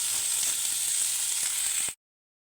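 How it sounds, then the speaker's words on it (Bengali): Vegetables fry over low heat in a little oil, giving a steady close crackling sizzle for about two seconds before cutting off abruptly. "এখানে প্রত্যেকটা সবজিকে আমি এখানে হালকা আঁচে আর অল্প একটুখানি অয়েল দিয়ে ফ্রাই"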